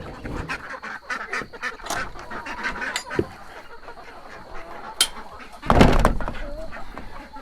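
Farm poultry, ducks and geese, quacking and honking in a barnyard with goats and cows nearby, a loose chorus of calls at moderate distance with a louder burst near the end and brief talk in the background.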